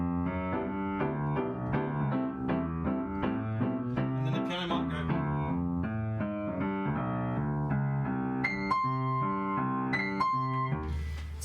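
Piano comping a swing chord progression in a big band style, steady rhythmic chords with small high fills throughout, continuous and moderately loud, no talking.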